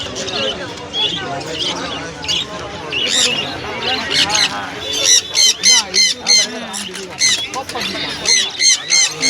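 Rainbow lorikeet parrots, including a red young bird about two months old, screech in loud repeated harsh squawks at a Serampore bird market, the bursts growing denser and more rhythmic later, with people talking among them.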